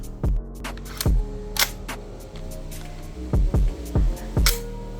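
The bolt release on a Noveske N4 Devgru gel blaster sounds as a series of crisp, sharp metallic clacks. Single snaps come first, then a quick cluster of several, all close up over a steady low hum.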